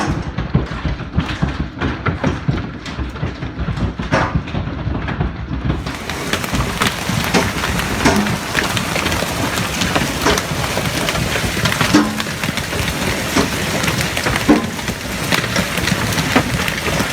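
Heavy rainstorm along the Hudson River, a dense, continuous hiss of falling rain with low rumbling undertones, steady and loud, growing broader and fuller partway through.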